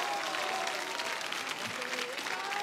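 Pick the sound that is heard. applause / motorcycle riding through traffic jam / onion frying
applause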